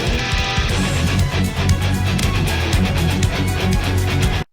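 A track from the video game Codename Steam plays as a dense, driving track with a steady beat and bright layered synths, loud throughout before cutting off abruptly at the end.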